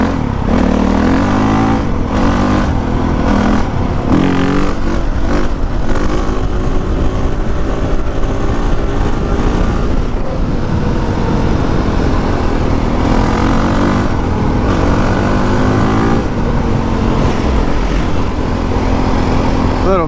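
Motorcycle on a fresh tire ripping along gravel, engine roaring loudly and continuously with revving surges, close and dense throughout with gravel crunch mixed in.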